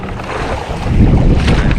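Wind roars steadily across open water during night fishing in the Philippines, buffeting the microphone with broadband rumble that swells louder in the second half.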